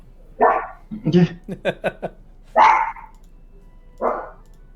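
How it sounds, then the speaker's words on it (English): Stella the dog barks in the background: a handful of sharp barks spaced over a few seconds, one quick cluster of rapid yips in the middle, then a couple more separate barks, fairly close and clear. "Woof woof in the background."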